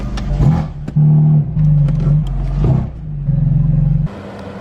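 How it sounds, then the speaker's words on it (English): A rental sports car pulls away and accelerates, the engine rising and falling through loud, close revving bursts with gear changes, then fading as it drives off. "And now we got Patrick skirting off with it"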